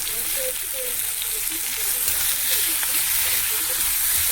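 Chili powder and spices sizzle in hot oil for a Latha fish curry. A dense, continuous hissing crackle stays close and steady from start to finish.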